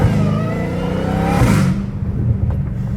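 A Dodge Hellcat Redeye with straight pipes revs hard up close, a loud snarling engine roar that climbs, then drops sharply into a rumbling idle with a short blip after, with no talking.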